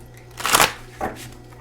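A deck of On the Horizon Oracle cards is shuffled close by, one long riffling swish followed by a shorter second one, with no talking over it.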